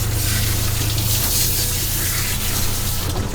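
A spray of water rinses a Lhasa Apso and Poodle mix dog during grooming, a loud, steady hiss that runs without pause and without talk.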